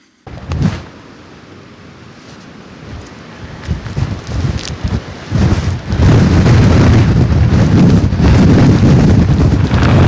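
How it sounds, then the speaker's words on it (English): Wind and rain blast through a TV weather report, starting with a light gust, then building into a loud, continuous roar of heavy wind-driven rain that dominates the second half. "Cue the rain, cue the wind."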